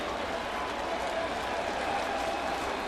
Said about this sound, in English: And that's why the crowd is cheering.